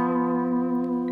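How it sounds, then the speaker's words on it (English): A dominant seventh chord holds steadily on an instrument with reverb and echo effects, its sustained tones including the tense tritone interval, ringing alone and evenly for about a second. "I'm going to play you in a dominant seventh chord."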